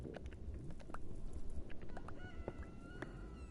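A rooster crowing in the survival video game OMD Survival World, heard once or twice at moderate distance amid other clucking fowl and a busy ambient bed, with no talking.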